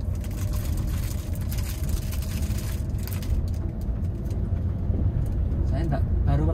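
A Honda Brio car is driving and shifting into second gear. Loud, rough engine and road rumble runs throughout, with the noise thinning briefly partway through and faint clicks and rattles underneath.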